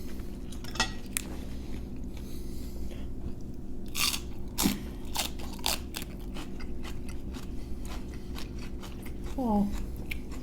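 Fresh samsa pastry bitten and chewed up close, with repeated crisp crunches and crackles spread through the stretch, plus occasional light clinks of dishes or cutlery.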